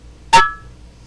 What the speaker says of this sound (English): This sound signifies that this jar has sealed.